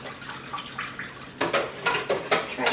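Homemade soap ingredients are stirred in a pot, with soft swishing at first, then several louder scraping, sloshing strokes in a regular rhythm toward the end.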